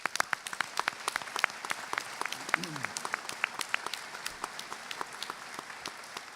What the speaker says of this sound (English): So for a round of applause for the dignitaries that are here.